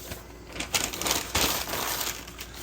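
Newspaper is crumpled into wads by hand for packing a box, crisp crinkling and crackling bursts in quick irregular succession, close by with no talk.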